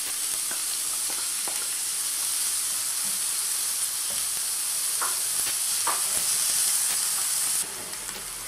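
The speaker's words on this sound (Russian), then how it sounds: "буду обжаривать наши овощи. Вначале скидываю лук," Chopped onion fries in oil in a pan for rassolnik, a strong steady sizzle with intermittent scraping of a stirring utensil, the hiss easing slightly near the end.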